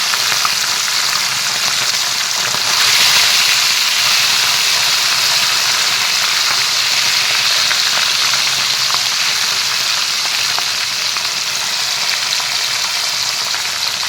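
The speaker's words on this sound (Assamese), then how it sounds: "বাকী এইখিনি মাছো মই একেলগে ভাজি ল'ম।" Small fish fry together in hot oil with a loud, steady, close hiss and sizzle that holds evenly throughout, with no speech.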